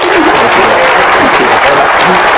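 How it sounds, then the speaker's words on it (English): Audience applause for author Robert Kiyosaki at a Spanish-language money seminar: a dense, loud, steady wash of many hands clapping, filling the whole stretch without pause. "Les pido un aplauso, a round of applause for Robert Kiyosaki, please."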